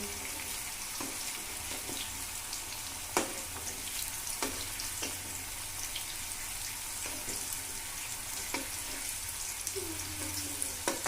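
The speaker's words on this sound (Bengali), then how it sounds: "আলু ভাজছি কারণ আলু সেদ্ধ হতে চায় না" Diced potatoes fry in a pan with a steady close sizzle, and sharp utensil knocks and stirring scrapes come through at irregular intervals. A brief watery rush from a tap or sink follows near the end.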